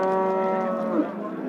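A cow moos in one long, loud, steady lowing call close by at a cattle market in Beshariq.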